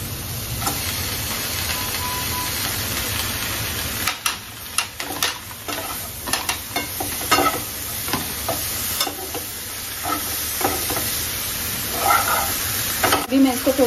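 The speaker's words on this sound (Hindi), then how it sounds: "अभी मैं इसके अंदर ये आलू डाल रही हूँ।" Potatoes are stirred into a pan of sizzling onion tempering, producing a loud continuous frying hiss broken by scraping stirs and clatters that grow busier toward the end.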